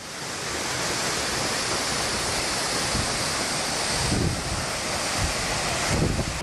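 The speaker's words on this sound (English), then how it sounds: "And look at that beautiful waterfall behind me." A waterfall in Georgia roars as a dense, continuous broadband rush, steady and close, with no voices.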